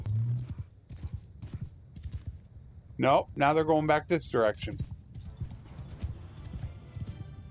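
Horse hooves clip-clop steadily in Mount & Blade II: Bannerlord, a rhythmic trotting patter running throughout, while someone talks over it and a horse briefly neighs in the middle.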